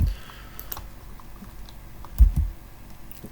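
Keyboard shortcut presses for copy on a computer, a few close, soft key clicks with a heavier double thump near the middle over a quiet room background.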